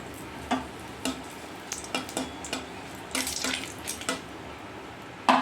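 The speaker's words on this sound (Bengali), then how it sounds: "এই তেলের মধ্যে আমি দিয়ে দেবো শুকনো লঙ্কা" Dried red chillies fry in hot oil in a kitchen pan, giving a soft, steady sizzle. Sharp scraping and stirring clicks break through it at irregular moments.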